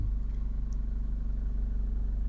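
A Honda CR-V 2.2 i-DTEC diesel 4x4 runs at idle, a quiet, steady low rumble heard from inside or near the car, with no voices.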